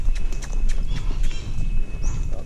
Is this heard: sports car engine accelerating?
no